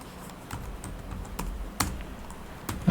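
A password typed on a computer keyboard in a short run of sparse, separate keystrokes, close by and moderately loud, with no talking.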